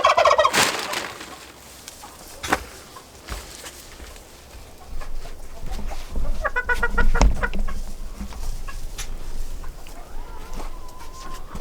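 Turkeys and chickens beside a backyard coop give repeated loud gobbles and clucks, bursts of sharp calls coming close at hand with brief quieter gaps between them.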